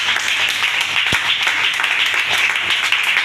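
A church congregation claps and applauds together, a steady dense wash of hand claps filling the space for a few seconds with no voices heard.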